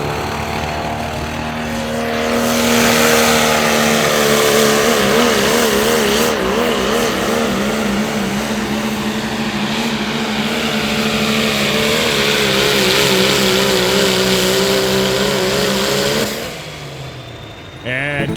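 A diesel pulling truck in the pro stock diesel class, painted white, chugs hard through a sled pull, its loud sustained engine roar holding for about sixteen seconds before dropping off, with an announcer talking over it.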